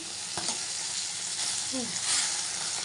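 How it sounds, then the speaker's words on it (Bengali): Fish sizzling steadily in hot oil in a pan as it is fried and turned over on both sides, a close, continuous crackle with a few faint clicks and no talk. "তো চলো মাছটা উল্টি পাল্টি ভেজে নিই ভালো করে"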